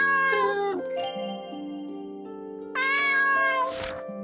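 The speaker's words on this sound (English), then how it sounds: "Had to pet the cute cat." In the video game Voidswept, a cat is petted and gives two clear, loud, tonal meows, one near the start and one near the end, over sustained in-game musical tones with a soft jingle.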